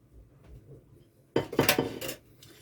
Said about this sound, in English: So got to get the dishes cleaned up from breakfast